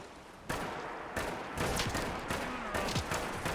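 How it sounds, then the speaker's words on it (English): Gunfire in the Fallout 4 video game, with several sharp close shots spaced irregularly over a faint background ambience. "Did I just shoot Nick?"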